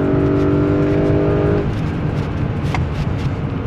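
A Porsche Cayenne Turbo with a sport exhaust pulls hard with a loud, rising engine note, then drops to a rough rumbling roar as the revs fall, with no voices.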